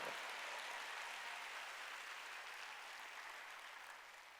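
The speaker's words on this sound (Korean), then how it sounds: "박수를 하나 줘" Sustained applause from a large church congregation during a Korean Wednesday worship service, a faint, even roar of many hands clapping at a distance that slowly tapers toward the end.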